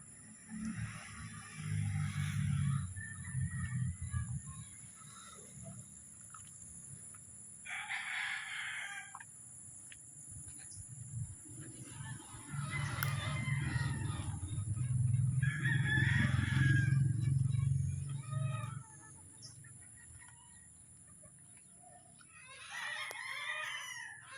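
Pullet chickens roaming a large range, with repeated rooster-style crows and clucks rising in several bursts over a steady low farmyard rumble.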